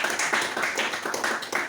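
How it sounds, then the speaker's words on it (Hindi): Applause from an audience at the closing session of an export management programme in Patna: a short burst of quick, dense clapping with steady volume and no voices. "इसके लिए जोरदार तालियां बजाइए"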